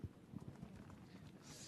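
Racehorses' hooves arrive after a race as faint, rapid clip-clop thuds over a diffuse outdoor crowd murmur, brief and somewhat distant.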